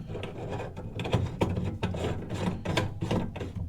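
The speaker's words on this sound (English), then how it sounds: "Screw on our gauge." Pressure gauge being threaded by hand onto a sink faucet with the water running: a steady stream of close, gritty metallic scraping and clicking ratchet-like turns, with no talking.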